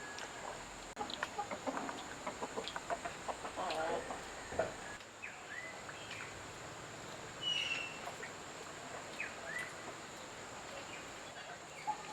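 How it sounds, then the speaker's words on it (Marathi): Hens cluck and call repeatedly in short bursts, a busy close-up flock with a quieter stretch in the middle and faint ambient noise throughout. "तिथे हे कोंबडी अंड्यावरती बसते अंडी घालते"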